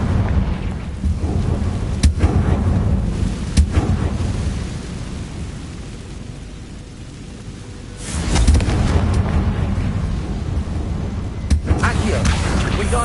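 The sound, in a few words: Confringo blast spell explosions in video game Hogwarts Legacy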